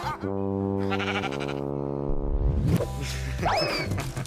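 Sheep bleating in the Minecraft video game, several drawn-out bleats close and loud, followed by a swishing sweep and a high chirping tone near the end, with game music or effects underneath.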